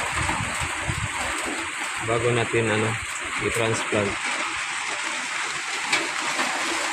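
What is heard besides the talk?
rain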